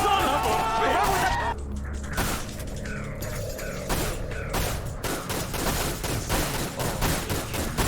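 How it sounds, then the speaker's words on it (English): Rapid pistol gunfire from dual-wielded handguns in the game Dirge of Cerberus: Final Fantasy VII, a dense string of sharp close shots over a steady game soundscape. "He's got his own dual-wielding pistols."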